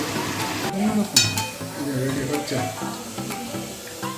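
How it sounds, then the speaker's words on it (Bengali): Potato pieces fry for biryani in hot oil with a steady crackling sizzle, broken by a few stirring scrapes and clinks, while a voice talks over the cooking. "এখানে আলু ভাজা চলছে"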